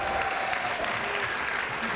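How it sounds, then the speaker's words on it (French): Applause from a French television studio audience, steady and dense across the full two seconds, loud and close with no voices over it. "Applaudissements pour tout le monde."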